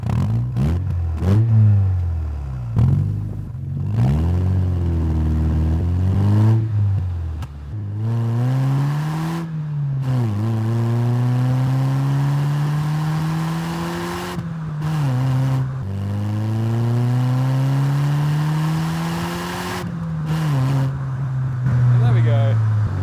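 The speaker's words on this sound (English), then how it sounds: "It's just livened up with that exhaust." A Mazda MX-5 NB roadster with a modified aftermarket exhaust, loud and close, revving repeatedly through rising and falling engine notes as it pulls through gears, with brief gaps between pulls and talking in places.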